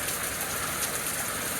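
Rain falling outside, a steady dense hiss of drops with no pauses, moderately faint and continuous.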